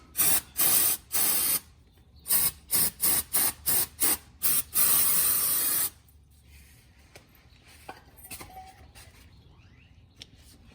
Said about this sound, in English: Now you want to get your brake cleaner. Just give it some sprays.